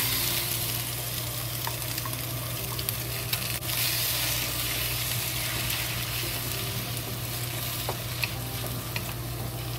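Egg and tomato are stirred in a soup pot for a cucumber, egg and tomato soup, giving a steady close sizzle with soft scraping stirs and a few small clinks, no voices.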